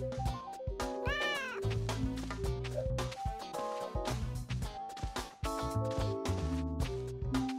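A cartoonish cat meow from the Monopoly Plus video game sounds over dense, busy background music, one rising wavering cry early on, with the game's soundtrack continuing throughout.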